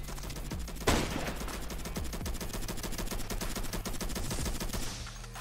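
Rapid bursts of video game gunfire keep rattling on loud and continuous, with fast repeated shots like an automatic weapon and no break in the firing.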